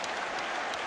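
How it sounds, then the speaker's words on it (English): Short burst of dense applause from cricket spectators at the MCG, a steady rushing roar of many hands clapping at close to constant loudness. "Listen to the roar of applause from the Victorian spectators here at the MCG"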